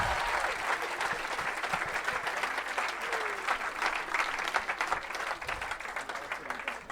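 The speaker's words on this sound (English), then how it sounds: "Let's give a big round of applause for Kalas and Vara so expertly." Audience applause at a kirtan chanting event fills the room, steady dense clapping from a crowd sustained throughout without a break.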